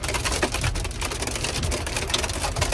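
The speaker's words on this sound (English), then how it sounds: "we're getting absolutely pummeled by hail right now" Hail pummels a vehicle during a monsoon storm on Arizona's Senator Highway near Crown King, a dense, loud, continuous rattling clatter of stones striking a hard surface.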